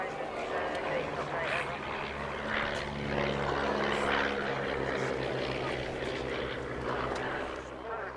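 A de Havilland Chipmunk T-10 propeller aircraft in RAF colours drones overhead at an airshow, its engine hum steady with a slight swell midway, while a commentator talks over it.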